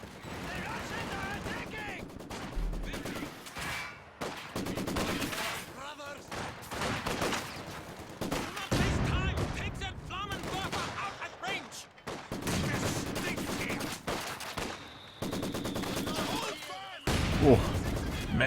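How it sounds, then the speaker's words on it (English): Maxim machine guns trading fire in Company of Heroes 2, a dense stretch of sustained rattling bursts and scattered impacts, moderately loud, with a voice talking over parts of it. "Oh, Maxim doing some major damage to this Maxim."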